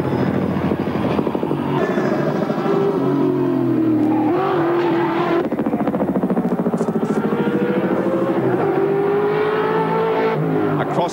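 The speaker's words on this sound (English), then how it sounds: "drivers guns the big V8" Big V8 touring car driven by Dick Johnson revving hard across the top of the mountain at a race circuit, a loud sustained engine drone rising and falling in pitch as it accelerates, with no voices over it.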